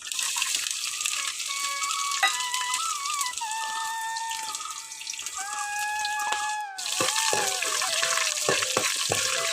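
Mustard seeds, ginger and garlic sizzle and crackle in a hot pan, a steady moderate frying hiss with bright pops and faint clinks.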